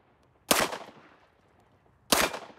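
Two loud, sharp gunshots from a Springfield XDM 10mm pistol with a 4.5-inch barrel at an outdoor range, about a second and a half apart, each with a short decaying tail.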